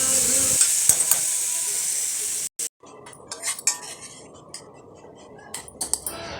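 Steady sizzling of coriander, onion and tomato sautéing in a hot pan with occasional stirring and scraping of a utensil, close by, briefly dropping out partway through.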